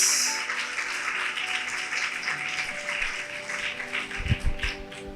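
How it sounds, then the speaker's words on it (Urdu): A church congregation applauds loudly for Jesus during a Good Friday sermon, a dense, steady wash of many hands clapping through the whole stretch, with a few heavier thumps near the end. "آئیں زوردار تالیاں یسوع کے لیے بجائیں گے"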